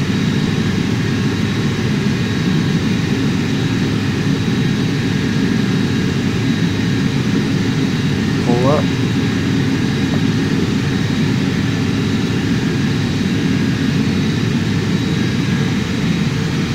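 Jet airliner engines at raised thrust in Microsoft Flight Simulator X, a steady broad roar with a constant whine, unbroken throughout and heard alone.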